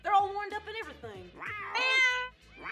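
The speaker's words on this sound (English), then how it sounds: "My cats are gonna be your backup dancers." Several house cats meow in a string of drawn-out, rising and falling cries, close and clear, with some overlapping one another.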